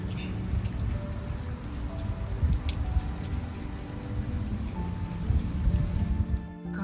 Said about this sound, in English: Garden is getting a lot of rain